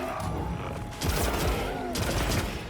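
A light bowgun fires in Monster Hunter Wilds, a burst of rapid game gunfire that rises at about the midpoint over a continuous bed of game sound and effects.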